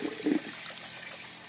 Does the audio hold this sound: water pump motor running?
yes